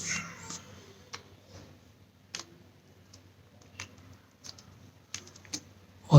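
Plastic arrow keys clicked and pressed into their slots on a computer keyboard during a repair, giving sparse, faint taps and snaps spread out in quiet, ending in one louder snap.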